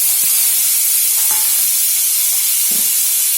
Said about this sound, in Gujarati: લસણની કચાશ દૂર કરવા માટે આપણે લસણને સાંતળીએ છીએ